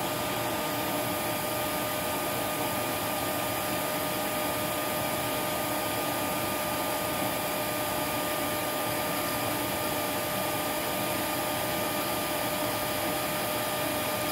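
A Lindhaus Aria Elite vacuum cleaner runs continuously during an airflow test, a steady, even motor whine and rushing air at moderate level with no pauses or talk.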